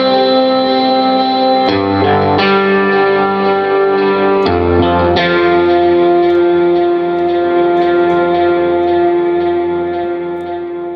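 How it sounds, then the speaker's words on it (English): Electric guitar chords ring out, drenched in huge reverb so each strum washes together and lingers before slowly fading. "Or even something like this one. It's got a massive reverb."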